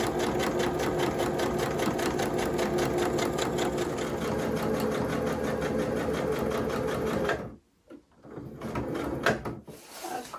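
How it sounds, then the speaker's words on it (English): A sewing machine runs a straight stitch along one side of a fabric-covered mushroom-shaped journal, a fast steady mechanical whir with even rhythmic clatter for about seven seconds before stopping, then a few brief handling sounds. "I'm just doing a straight stitch down one side"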